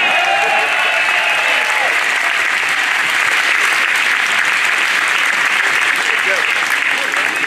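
Sustained applause from a crowd at a celebration honoring 2015 world champions, steady clapping throughout with a few voices mixed in.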